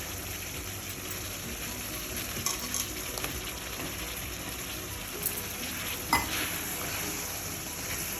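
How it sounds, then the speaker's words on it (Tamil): Mushrooms stirred into simmering pepper gravy give a low bubbling sizzle under a steady background hum, with a few soft spoon scrapes and clicks scattered through. "இப்போ நம்ம மஷ்ரூம் ஆட் பண்ணலாம்."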